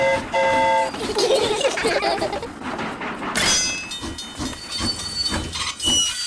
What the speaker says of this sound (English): Clickety-clack, clickety-clack, the train is on the track.